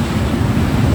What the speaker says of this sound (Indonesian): Jadi ombak besar lagi.